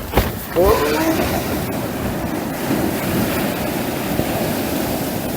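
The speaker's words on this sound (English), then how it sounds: "Right, waves coming in as well" Ocean waves come in on a shore as a steady loud wash of surf, with a short louder splash near the start.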